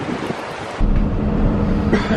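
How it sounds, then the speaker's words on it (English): Strong wind buffets the inside of a converted school bus motor home, a steady roar that surges into a heavier low rumble partway through, with no voices. "I'm not climbing up there with the wind blowing like this"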